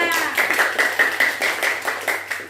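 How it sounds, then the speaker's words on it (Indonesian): A group of people claps along in a steady, fairly quick rhythm, about a dozen sharp, close hand claps over a few seconds with no voices. "Iya, tepuk tangan semuanya."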